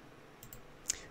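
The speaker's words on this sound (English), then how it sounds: "jumping straight to the file by double clicking on it." A computer mouse gives a double click, two faint quick ticks close together, followed shortly by a slightly louder single click in a quiet room.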